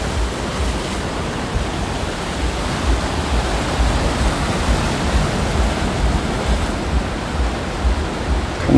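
Sea waves at Sacheon beach in Gangneung at night roll in as a steady, loud, broadband wash of surf that holds without pause throughout, with no voices.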